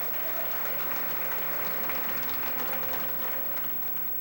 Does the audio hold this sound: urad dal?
no